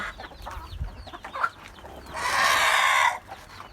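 Farm chickens cluck in short bursts nearby, then one bird lets out a loud, drawn-out squawking call lasting about a second before the clucking returns.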